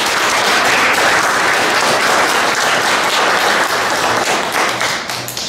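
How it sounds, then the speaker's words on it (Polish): Loud, sustained applause from an audience at an art exhibition showcasing local painters, graphic artists, ceramicists and sculptors, a dense steady wash of clapping that begins to thin toward the end. "Brawa dla nich!"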